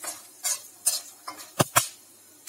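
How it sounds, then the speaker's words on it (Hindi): Peanuts frying in a pan for kanda poha, stirred with a utensil: several separate scraping strokes spaced through the clip, the last two sharper and louder, over a faint sizzle, with no voices. "ये देखिए हमारी मूंगफलियां पकने लगी हैं।"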